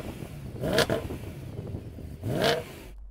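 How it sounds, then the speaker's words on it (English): A BMW M3 engine revs up twice in sharp bursts, the pitch climbing then falling, loud and close with a rumbling idle between. "let's have a listen to the old M3"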